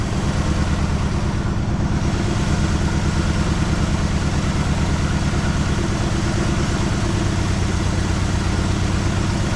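A 1973 Chevrolet Malibu engine that has sat for 25 years idles roughly, misfiring on several cylinders, with a loud, steady, lumpy low throb running unbroken throughout.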